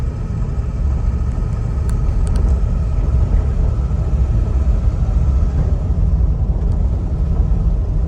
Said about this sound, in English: it just seems to be a good running and driving Ford Excursion